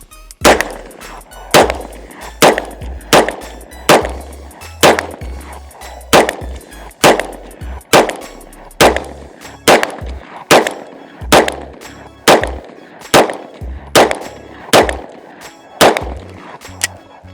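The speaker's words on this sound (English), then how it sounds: "see if I'm actually a better shot with my full size handgun from this distance." A full-size handgun fires about eighteen evenly spaced shots, each sharp crack followed by a ringing metallic clang from a steel target, loud and close with roughly one-second rhythm.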